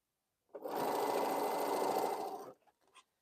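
A sewing machine runs in one continuous two-second burst while stitching a Crown Royal quilt, close and steady, then stops, followed by a couple of faint handling clicks.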